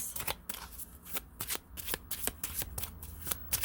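Tarot cards being shuffled by hand during a love reading, a quick run of crisp riffling flicks repeating steadily, close and clear with no talking.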